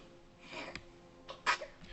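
A single sneeze bursts out at close range during an otherwise quiet moment, a short sharp exhalation followed by a softer breathy tail.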